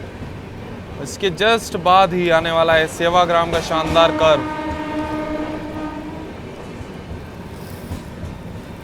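A Delhi to Yeswanthpur Duronto Express runs through Sevagram Junction on a loop line, its horn sounding in loud, layered blasts over steady rumbling wheels while someone talks throughout.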